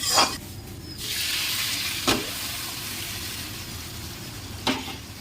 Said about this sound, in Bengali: আলু গলে গিয়েছে এটা জলটা দিয়ে দেবো